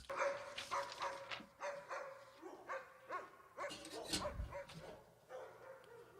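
A dog barks and yips repeatedly in an irregular series, fairly close but not loud, with faint background noise between the barks.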